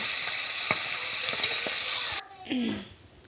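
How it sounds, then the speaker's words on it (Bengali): Loud, close sizzling of fish frying in oil for about two seconds with a few sharp pops, then it cuts to a quieter scrape and brief sound. "এইভাবে আমি সব কটা মাছ ভেজে উঠিয়ে নেব।"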